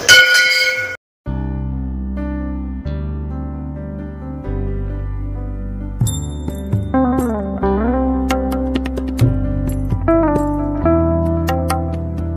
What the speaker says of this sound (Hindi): सो पहले घंटी बजा के शुरुआत